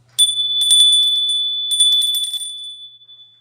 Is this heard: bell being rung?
yes